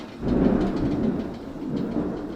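Deep rolling thunder rumbles through a storm, building over a second and then fading in a long, loud, close growl with rain noise beneath.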